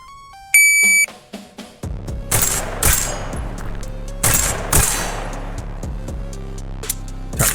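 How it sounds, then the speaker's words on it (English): Electronic timer beeps open a drill in the VR shooter Tactical Assault VR, followed by sharp gunshots fired in close pairs with gaps between them, loud and near, each ringing into a short echo. "So, I'll start the timer, I'll engage 2 shots on that first target, and then I'll pop up, engage 2 shots"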